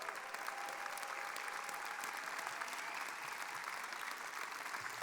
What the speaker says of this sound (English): Stand up and give the folks around a round of applause.